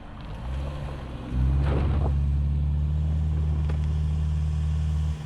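A Subaru all-wheel-drive engine in X Mode labouring up an off-road hill, a low steady drone that swells after a second and holds loud and close under faint rattles.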